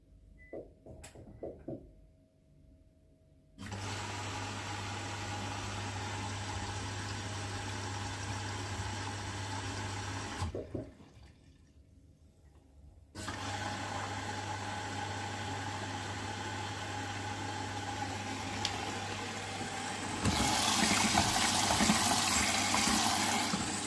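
Bosch Serie 6 WAT24780TR washing machine running a 60° Allergy Plus Baby program on a white duvet, with a steady loud motor hum and water rushing in, broken by two short pauses before running on and growing louder.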